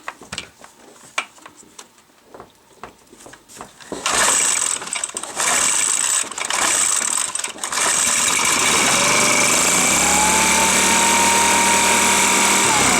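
A small outdoor power equipment engine, freshly repaired at the recoil starter, catches after some clicks and handling noises, then runs steadily and loudly at a high buzzing idle close by, with no talking.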